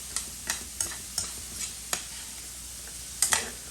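Fatty bacon sizzling in its own rendered fat, a soft steady crackle punctuated by regular sharp pops and spits roughly every third of a second, with a louder burst of spattering near the end; no voices.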